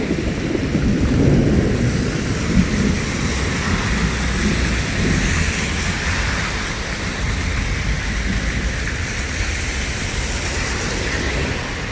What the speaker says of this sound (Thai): มันตกฟ้าร้อนครับ มันตกฟ้าร้อน